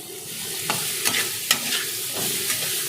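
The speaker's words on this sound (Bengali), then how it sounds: "মটরটা ভেজে নিচ্ছি এরকম করে" Peas frying in a pan give a steady close sizzle, with a few sharp scrapes and taps of a stirring spoon against the pan scattered throughout.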